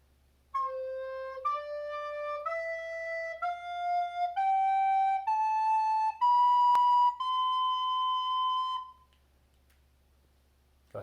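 A recorder plays an ascending scale in a classroom-style lesson for fourth and fifth graders. Eight clear, steady notes step upward one after another, each held briefly. The playing is solo and close, ending on a sustained top note before silence.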